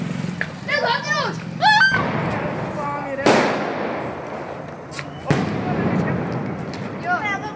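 Diwali firecrackers and fireworks burst outdoors with loud, sharp cracks at intervals, each followed by a crackling tail, while people talk nearby throughout.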